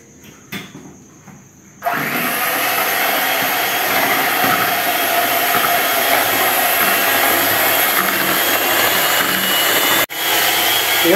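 An electric mixer whips egg whites to stiff peaks for a chocolate cake, a loud steady whirring drone that starts abruptly after a quiet moment, runs continuously and briefly cuts out near the end.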